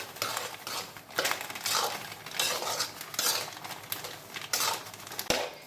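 Grated coconut stirred in a pan while making sukhdi, giving bursts of scraping and clinking of a metal spoon against the pan, repeated in uneven strokes and fairly close.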